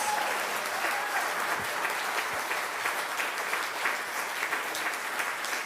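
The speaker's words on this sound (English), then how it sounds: "Please give them all a round of applause." Steady applause from a congregation fills a church sanctuary at First Church Unitarian in Littleton, a dense, even patter of many hands clapping that holds at a constant level throughout, with no voices standing out.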